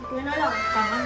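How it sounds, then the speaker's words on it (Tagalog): A cat meows in a long, wavering cry that rises and falls, heard close under ongoing talk in Filipino. "Yan, nagmamayaw lang siya dyan guys."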